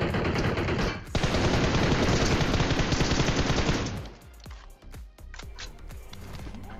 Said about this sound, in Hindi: मैं बस फायरिंग की आवाज़ से ही पहचान रहा था कि हाँ लेफ्ट से पड़ रही है या फिर राइट से पड़ रही है